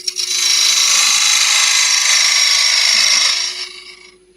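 Wood lathe turning a small olive ash box, a steady close cutting hiss with a faint motor hum underneath, running evenly for about three and a half seconds before fading out.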